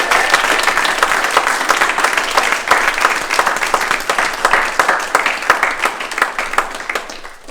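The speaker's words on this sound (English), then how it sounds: "I think that deserves another round of applause." A large crowd applauds loudly and continuously at a running fundraiser event, dense clapping that holds steady before tapering off at the end.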